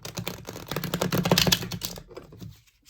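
A quick riffling shuffle of tarot cards, a dense run of crisp papery clicks and flutters lasting about two seconds before stopping.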